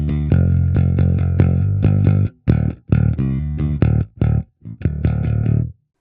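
Bass guitar played through an STL Tones Graviton amp plugin on its fully clean channel, a loud riff of choppy, separated notes with brief silences between the phrases.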